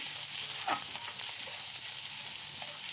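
Chopped garlic sizzles in melted butter in a pan for a chicken stew, a close, steady frying hiss with a few soft stirring scrapes and no talk.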